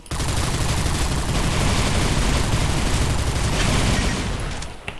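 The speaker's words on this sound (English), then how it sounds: "Oh, this is the plasma rifle." Plasma rifle blasting away in the arena shooter Hellreaver Arena, a loud, dense barrage of rapid energy shots and impacts running without a break for about five seconds before tailing off, with no voices over it.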